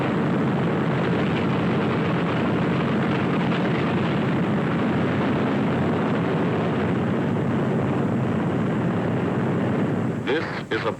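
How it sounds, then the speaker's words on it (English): Roaring engines of WWII American bombers in flight over the English countryside, a dense, steady drone that stays loud and continuous nearly throughout before easing at the very end. "Only the roaring engine sound of the bombers pounding through the quiet English countryside."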